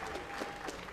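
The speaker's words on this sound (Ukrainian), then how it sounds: "аплодисменты боксерам" Applause for the boxers after a boxing match bout, a steady wash of clapping from a crowd filling the whole second at an even level.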